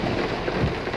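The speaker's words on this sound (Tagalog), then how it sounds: "Grabe, lakas ng ulan." Heavy rain pours down outside a BDO branch in Rockwell, a dense, even hiss of water striking surfaces in one short burst.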